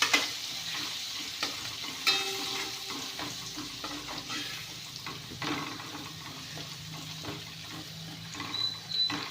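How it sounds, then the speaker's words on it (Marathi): Garlic sizzles and crackles steadily in a hot pan, interrupted by occasional stirring scrapes and clinks of a utensil against the metal. "भाजलाय छान असा लसूण."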